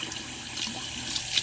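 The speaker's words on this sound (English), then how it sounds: "I'm wondering if just adding a little bit of water to it. This water is hot." Hot water poured onto a brass drain cover being cleaned with baking soda, a continuous splashing trickle with brief brighter spatters, close and fairly loud, no voices.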